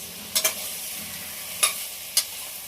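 Beetroot pieces and garlic cloves fry in butter for tomato soup, a faint low sizzle under a few sharp spoon scrapes and clatters against the pan.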